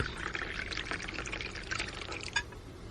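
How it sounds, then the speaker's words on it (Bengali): Coffee pours from a flask into a cup, a steady close liquid stream running for a few seconds with a brief splash near the end. "চেয়ারে বসতেই ফ্লাস্ক থেকে কফি ঢেলে আমার দিকে এগিয়ে দিলেন।"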